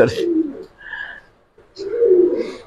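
Male pigeons coo in deep, rolling calls, two loud close bursts with a softer higher call between them, alone without talk.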